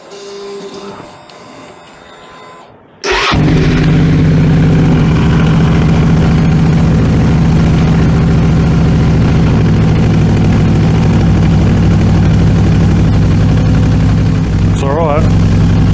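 An engine on a vehicle just fitted with an 18-inch rear wheel conversion starts after a few quiet seconds, then idles loudly and steadily with a constant low rumble for the rest of the time.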